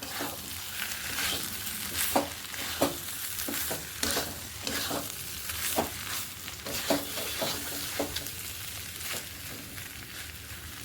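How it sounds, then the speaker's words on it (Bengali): Fried katla fish pieces and potatoes stirred with spices in a hot pan: a continuous sizzle runs under repeated, rhythmic spatula scrapes and knocks, close and steady throughout. "এখন আলুটা আর যে মাছটা ভাজ্যা রাখছি দিয়ে দেবো যেমন মানে মশলার লগে সুন্দর করে আরও দু তিন মিনিট কষাই নেব"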